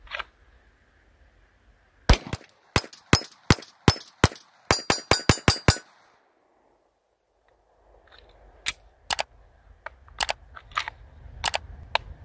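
A SIG P320 pistol fitted with a Polymer 80 grip module fires loud, sharp shots: a steady string, then a fast rapid burst, a pause, and scattered further shots over low background noise.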